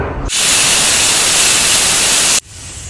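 A pressure cooker whistle vents steam in a loud, steady hiss that starts abruptly, holds for about two seconds and cuts off sharply, with quiet room sound before and after.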